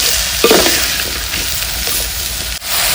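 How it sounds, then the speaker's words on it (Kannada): Vegetables with chili powder, turmeric, coriander powder and salt fry in a pan in a village kitchen, giving a loud, continuous sizzle with scraping stir strokes and a brief dip near the end, no voices. "ಫ್ರೆಂಡ್ಸ್, ಈಗ ಇದು ಸ್ವಲ್ಪ ಫ್ರೈ ಆಗಬೇಕು."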